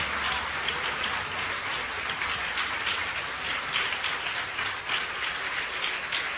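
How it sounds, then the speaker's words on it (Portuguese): Sustained applause from a church congregation, many hands clapping in a thick, continuous wash that holds at a constant level for several seconds without talk. "Vamos aplaudir mais o Senhor Jesus."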